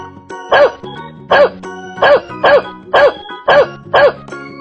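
A dog barks seven times in an even rhythm, each bark short, close and loud, over light background music.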